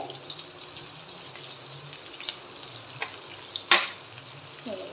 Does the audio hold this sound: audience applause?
no